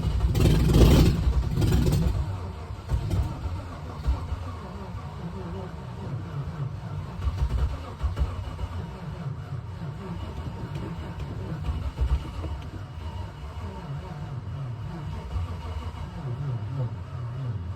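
A freshly rebuilt Land Rover Discovery 1 engine runs roughly outdoors and struggles to hold an idle, opening with a loud rev that drops into a steady, uneven low rumble.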